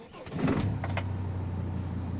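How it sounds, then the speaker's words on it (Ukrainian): A 2.9-litre diesel engine of a 1999 Mercedes-Benz Sprinter 412 van cranks briefly and catches, then settles into a steady low idle hum that continues to the end. "ось ми включаємо запалення, спробуємо завести автомобіль"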